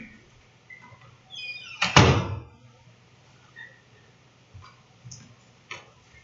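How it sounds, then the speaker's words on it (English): A door swings shut with one solid thud, a few faint clicks and small knocks trailing after it in a quiet room. "I'm going to shut this door."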